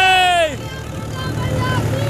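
A smoking diesel tractor drives along with a steady, close low engine rumble running under the whole stretch, while a voice talks and a brief falling tone sounds at the start.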